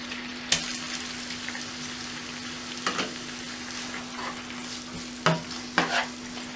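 Chopped onions frying in oil for a wedding-style mutton leg roast: a constant hiss of sizzling with a low steady hum behind it, punctuated by a handful of sharp stirring clacks.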